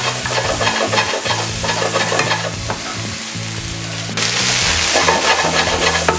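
Diced tomato sautéed and stirred in a hot pan for a Peruvian Italian-style tripe stew, with a steady loud sizzle and frying crackle over scraping stir strokes, brightening and intensifying near the end; no talking.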